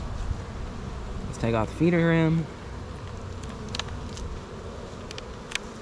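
Honey bees hum steadily at an open hive being inspected with smoke, a constant dense drone running throughout while a person speaks briefly in between.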